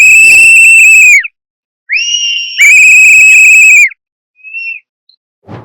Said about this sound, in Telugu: ఓన్లీ విజిల్సే అన్నమాట. ఎక్కడ చూసినా విజిల్స్.